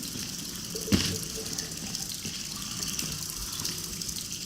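Water flows and gushes steadily in a continuous wash in the video game Portal 2, with a single soft knock near the start; moderately loud, no talking.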